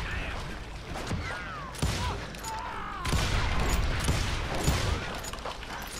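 Rapid gunfire bursts from the western shooter game Call of Juarez Gunslinger, dense and loud throughout, with a voice talking over the shots.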